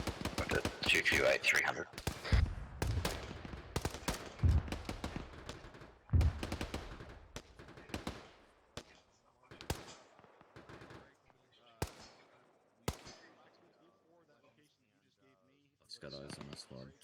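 Weapons fire during a military field training exercise: loud bursts and single shots crackle early on, then thin out to scattered distant reports while voices talk over a radio.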